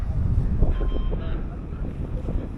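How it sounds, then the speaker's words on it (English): Cold wind gusts along the Bund waterfront in Shanghai, a loud steady buffeting rumble against the microphone with faint background murmur from the promenade. "damn Daniel, it is cold and windy today"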